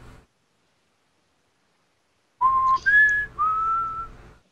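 A person whistles three rising notes, each held briefly with a slight upward slide, imitating a tiny phoenix's call; clear and close after a short silence.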